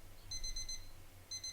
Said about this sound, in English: And then the alarm.